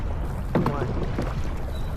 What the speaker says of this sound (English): use that back to push this boat forward